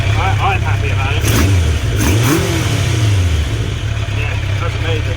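A Kawasaki GPZ900R barn-find motorcycle, running with its airbox off during carburettor balancing, revs up from idle in a couple of swelling, falling bursts over a steady engine drone, loud and close.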